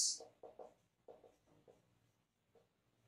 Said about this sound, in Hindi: तो फिर से मैं अपना चौथा टॉपिक लिख लूंगा